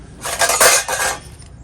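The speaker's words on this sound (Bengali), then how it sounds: "লাউটা এখন আমি কেটে নেবো।" A fresh, tender bottle gourd being cut with a kitchen knife, giving a short burst of close, crisp slicing and scraping sounds over about a second, with no talking.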